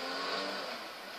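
A car drives through town in the video game GTA 5, its engine giving a continuous, steady hum with a smooth tone that eases slightly toward the end.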